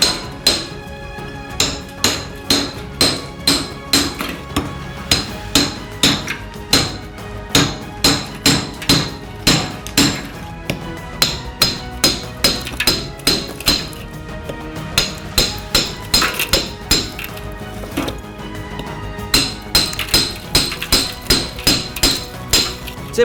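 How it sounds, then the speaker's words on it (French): Blocks of ice being split into small pieces with an axe and a hammer, heard as a steady series of sharp, loud chopping and cracking blows at a quick, fairly regular rhythm with no talk. "À l'aide d'une hache et d'un marteau, nous avons fendu ces blocs en plein petits morceaux."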